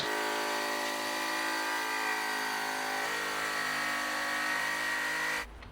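A polishing machine buffs a boat hull with a buffing wheel, giving a loud, steady motor drone that holds evenly for several seconds and then cuts off abruptly at the end.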